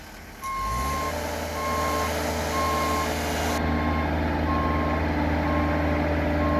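Reversing beeper of a Genie lift sounding in steady evenly spaced beeps over a constant motor hum, the drive running in reverse at slow speed nearby, with no talk.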